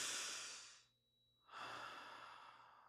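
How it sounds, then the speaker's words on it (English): Close, soft breathing: a long exhale, a short pause, then a deep inhale that trails off slowly. "Take a breath."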